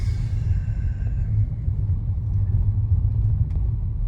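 A large Range Rover drives along, giving a steady low engine and road rumble throughout, fairly close and even in level, with no talk over it.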